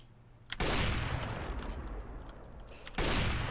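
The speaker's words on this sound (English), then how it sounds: "I thought there was someone shooting at me" Gunfire in Counter-Strike: Global Offensive, a loud burst of shots that starts abruptly, holds for a couple of seconds and starts again at the end.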